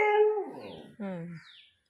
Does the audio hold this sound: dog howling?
yes